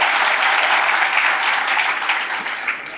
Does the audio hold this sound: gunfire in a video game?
no